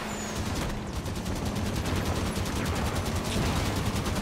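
Enemy soldiers firing on the player in the video game Halo 5: a dense, continuous rattle of rapid automatic fire under a steady noisy rumble, loud and unbroken throughout.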